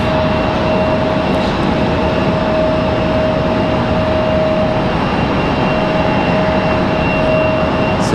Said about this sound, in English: JetBlue and that A220